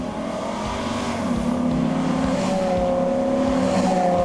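A Ram SRT-10 pickup truck engine roars as it launches in a build-off drag race, tires briefly spinning, then the motor drones on steadily and loudly close by.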